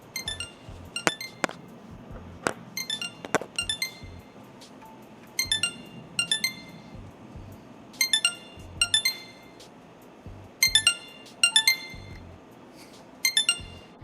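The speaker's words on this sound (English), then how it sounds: "Let's find out exactly what kind of beep sound it makes." A bright electronic locator beep from Xiaomi Buds 5 earbuds sounds in short repeated clusters of rapid chimes, separated by pauses, with a few clicks and handling noises between.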